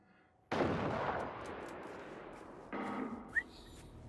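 A single sharp gunshot in Generation Zero cracks loudly and decays into a long echoing tail, followed by a second softer blast and a brief whistle.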